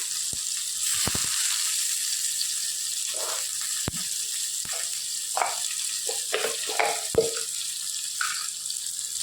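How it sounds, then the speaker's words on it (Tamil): Mustard seeds and crushed garlic fry in hot oil for a South Indian greens dish, a constant hissing sizzle with scattered sharp pops and crackles, close and steady with no voices. "கடுகு நல்லா பொரியட்டும் கடுகு பொரிஞ்ச உடனே பூண்டு இடித்து வச்சுருக்கேன் அதையும் போட்டுக்கோங்க"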